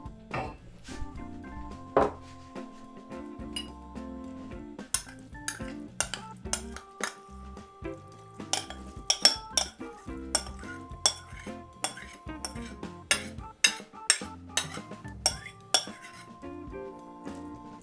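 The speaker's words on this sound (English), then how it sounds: "And now we need to add our sauce" Tomato sauce is poured back into a pan and spread around, producing repeated sharp metallic clinks and scrapes of a utensil against cookware over a faint background sizzle, with irregular, fairly close strokes.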